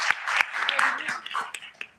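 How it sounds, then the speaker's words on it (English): Brief audience applause at a Saudi numbering-center conference welcoming the GS1 Kuwait CEO, a short patter of clapping that fades out within two seconds. "Give him a round of applause."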